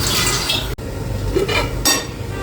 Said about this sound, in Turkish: Şimdi çıkan bulaşıkları da yıkayalım